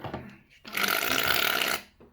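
Shaving foam sputters from an aerosol can into a slime mix, a single loud hissing, flatulent burst lasting about a second, close up, with brief laughter around it.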